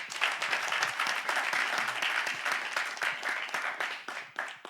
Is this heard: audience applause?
yes